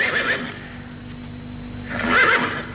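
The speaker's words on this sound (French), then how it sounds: "Les chevaux?" Horses neigh twice in a Western setting, a whinny at the start and a louder, longer one near the end, with faint hoof clip-clop and background hum between.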